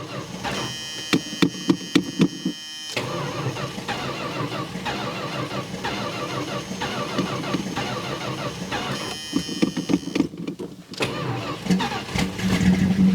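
An old car engine cranking in the cold, with stuttering starter churns and sputters before catching and running at a rough idle, then revving up near the end.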